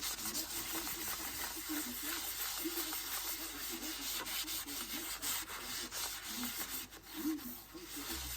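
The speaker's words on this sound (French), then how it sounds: "je frotte bien partout pour donc enlever tout ce surplus" A makeup palette is rubbed all over by hand to remove excess powder, giving a continuous close dry rubbing hiss that lasts throughout with slight swells.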